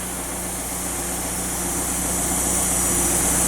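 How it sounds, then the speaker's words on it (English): A Fiat 124 Spider Prima Edizione turbo engine idles with a steady, moderate exhaust drone and low rumble that stays even and continuous throughout, with no voices. "It's not super loud, the exhaust note, but it is enough in this small car that you definitely can hear it."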